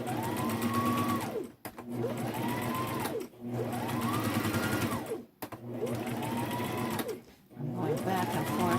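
A sewing machine runs in repeated bursts, stitching back and forth to lock a seam that will take stress, with short pauses between runs; close and steady, no talk over it.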